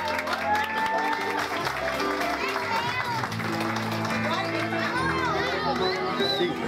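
Crowd clapping steadily at a quinceañera celebration in Miami as the court of honor is presented, dense applause mixed with music and background voices throughout.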